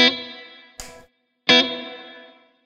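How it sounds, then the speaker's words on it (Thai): Guitar notes through the digital reverb of a Laney GHR amplifier: two plucked chords, each ringing out and fading into a long reverberant tail, with a short scratchy strum between them, no talk. "ถ้าดึงขึ้นมาก็จะหางเสียงรีเวิร์บยาวขึ้นนะครับทำให้โฟกัสตัวรีเวิร์บได้ชัดเจนขึ้นนะครับ"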